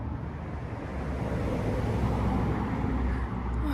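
Cars pass a garden and yard in autumn, making a continuous, fairly loud roadway roar that stays steady throughout and leaves any birdsong unheard beneath it.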